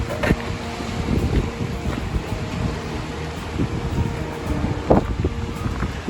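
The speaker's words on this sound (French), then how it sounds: "Il y a du vent tout au bord de mer, hein." Wind gusting at the seashore, a continuous rumbling buffet over the microphone with faint background activity and a few knocks.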